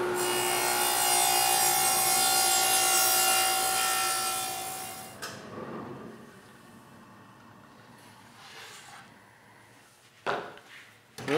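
Table saw cutting a piece of wood held in a precision circle-cutting jig: a loud whining blade runs steadily for about five seconds, then winds down into quiet scraping and a few knocks.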